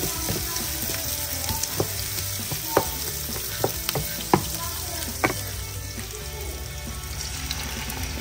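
Prawns frying with onions in a pan, a steady close sizzle with occasional sharp pops and clinks of stirring over several seconds, no talking.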